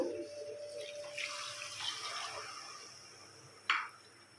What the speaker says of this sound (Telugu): కొద్దిగా వాటర్ పోసుకుందాం సరిపోతుంది అది